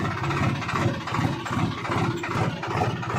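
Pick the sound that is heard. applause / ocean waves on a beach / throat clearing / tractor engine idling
tractor engine idling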